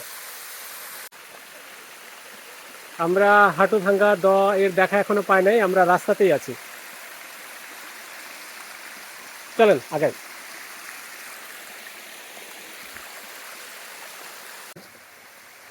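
Water rushes steadily from the third waterfall and stream along the forest trail to Hantu Bhanga Do falls, a constant hiss under someone speaking Bengali.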